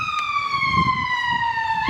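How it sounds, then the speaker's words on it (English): An ambulance or police siren wails steadily as a long, slowly falling tone, moderately loud and continuous over faint street rumble, with no talking. "it's either an ambulance or a police car"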